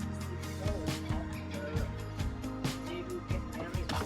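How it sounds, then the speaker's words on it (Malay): A hornbill calls from forest in southern Thailand between Krabi and Surat Thani, with harsh, repeated gobbling cries layered over a busy background of other birds, moderately loud and close. "Yang itu sekarang tengah ada bunyi hornbill."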